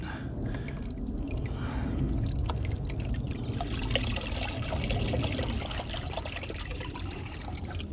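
Water pours and splashes into a tub in a steady rush, with trickling and dribbling accents throughout and no speech.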